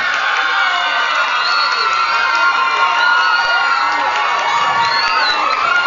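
A crowd at a beach-season queen pageant loudly cheers and shouts for candidate number two, with children's shrieks and whoops over a continuous roar of applause close at hand.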